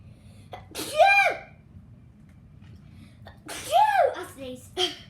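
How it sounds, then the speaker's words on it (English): A person indoors sneezes sharply and close up, with one burst near the start and another, louder one later, separated by quiet room tone. "I sneezed."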